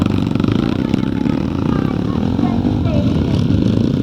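A vintage scramble motorcycle with a 600cc JAP engine in a Harry Stitt built frame roars steadily and loudly as it comes past at a classic revival race meeting, with further engines and crowd noise mixed in.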